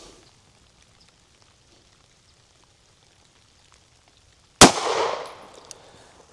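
An HK CC9 micro 9mm pistol fires a single 147gr round into bare ballistic gel, one sharp, loud report after a long quiet stretch, followed by a brief ringing, rattling tail.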